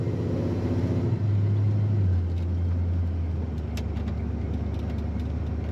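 A 1975 Ford F-100 regular-cab shortbox pickup drives along with its engine running as a loud, close, low rumble. The engine note shifts downward about a second in, then settles into a steady drone.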